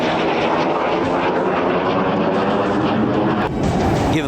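Sukhoi Su-30MKI fighter jet of the Indian Air Force flying, a loud, steady broadband engine roar with a rushing hiss that holds throughout and shifts slightly near the end, with no voices.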